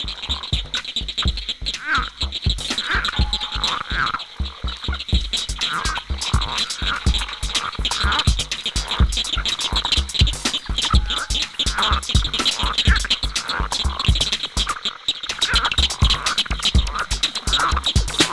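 A leopard frog (Rana pipiens) calls in long, rapid, snore-like pulsed croaks that repeat steadily and close by, with a constant high insect-like hum behind, and no voices.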